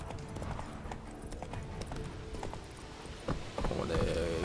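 Horse hooves clop in a quick, steady rhythm across a bumpy bridge in The Witcher 3: Wild Hunt, close and moderately loud, with a brief louder rattle near the end.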